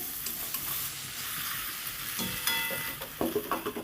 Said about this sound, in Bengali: লেবুর রসটা দিয়ে আবার একটু নেড়ে চেড়ে আমি ঢেকে রাখবো পাঁচ মিনিট